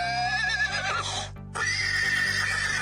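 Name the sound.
horse neighing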